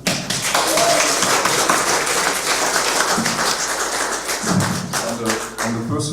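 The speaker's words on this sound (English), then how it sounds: "another round of applause for the young people at Amcham." Gala audience at an AmCham event gives a sustained round of applause for the young people, dense, steady clapping with scattered sharper claps and thumps, tapering briefly near the end.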